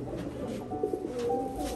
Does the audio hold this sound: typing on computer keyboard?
no